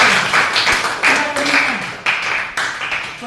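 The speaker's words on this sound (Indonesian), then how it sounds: "Tepuk tangan dulu." Audience members clap irregularly at a Christian teacher-training event, the claps coming in uneven bursts while a voice carries on underneath.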